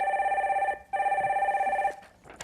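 A telephone rings with an incoming call, two loud electronic trilling bursts separated by a short pause, alone with no voices.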